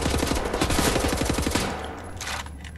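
Dual-wielded akimbo guns blaze away in Wolfenstein The New Order, a fast, loud stream of rapid shots for about a second and a half before the firing stops and a lingering rumble fades out.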